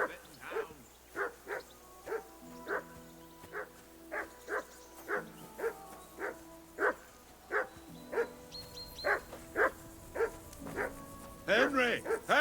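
A dog barks in the video game Kingdom Come: Deliverance 2, a long run of evenly spaced sharp barks at moderate distance, with speech overlapping near the end.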